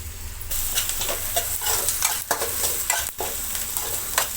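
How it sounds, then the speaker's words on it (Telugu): Onions with a little tamarind and turmeric frying gently on a low flame, a continuous close sizzle broken by repeated spatula stirring strokes, with no voices. "ఆడకుండా చిన్న మంట మీద వేయించుకోవాలి ఉల్లిపాయలు"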